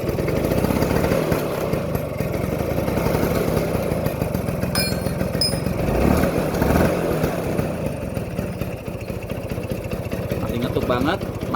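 A 1987 Vespa Excel scooter's small two-stroke engine runs at a steady idle, a close, continuous buzzing putter throughout, with a voice talking briefly over it.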